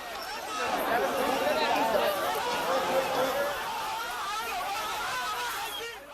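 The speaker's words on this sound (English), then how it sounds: "Thousands have gathered on Tahrir Square." Thousands of people crowded into Tahrir Square in Cairo, a dense babble of overlapping voices and chatter at moderate distance, continuous and swelling slightly before easing off.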